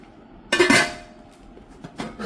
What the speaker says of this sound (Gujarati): આ કઢાઈ છે